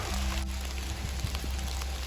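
Steady rain falls through Welsh oak woodland, a dense hiss of drops on leaves and ground with a few louder patters close by and no voices.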